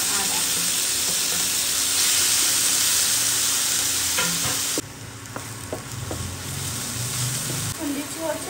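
Kasuri methi with grated onion and ginger hits hot tempering oil for an aloo dish, crackling and sizzling loudly and steadily, with stirring scrapes; the sizzle drops sharply partway through, then continues more softly.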